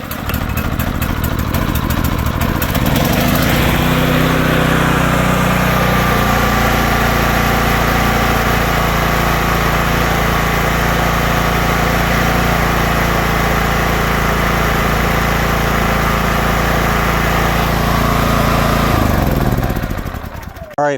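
A gas-powered mulcher blower is pull-started, catching after a brief rattle and settling into a loud, steady, close engine drone that runs for nearly twenty seconds before cutting off.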